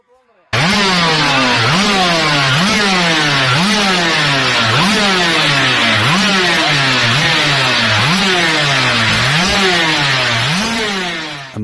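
Superbike engine revving hard and repeatedly in a steady rising-and-falling cycle, loud and close, running on for around eleven seconds before easing slightly at the end.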